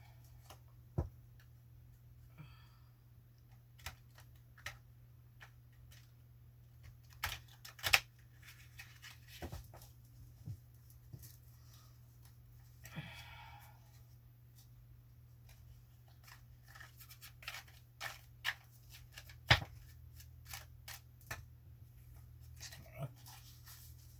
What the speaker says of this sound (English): I'll shuffle them again on camera.